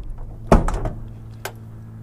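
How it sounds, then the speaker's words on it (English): A solid door on a 1977 Dodge Ramcharger SE 440 Big Block thuds shut once, followed by a brief rattle and a lighter click a moment later. "the door shuts nice"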